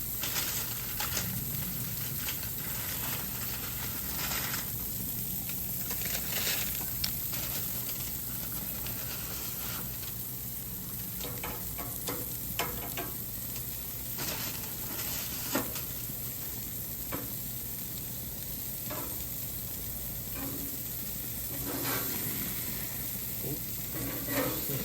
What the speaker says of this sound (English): Listen to them sizzle.